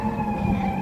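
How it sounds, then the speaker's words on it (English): Emergency vehicle siren on a city street near the United Nations, a steady sustained wail heard continuously at moderate distance over low traffic rumble, with no talking. "We got sirens."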